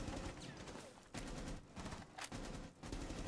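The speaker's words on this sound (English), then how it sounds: "Can you start shooting?" Video game gunfire during a round of a tactical shooter with a bomb defusal, a dense, noisy burst of rapid shots throughout, fairly quiet overall, with no talk over it.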